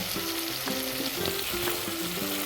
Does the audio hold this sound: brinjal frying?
yes